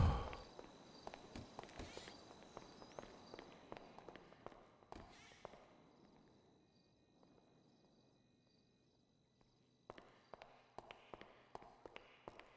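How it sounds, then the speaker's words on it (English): Footsteps in GTA roleplay tap out in quick regular runs, clear and close at first, then fading to near silence before a fresh burst of steps returns; no speech accompanies them. "I can hear footsteps, but I can't see anyone."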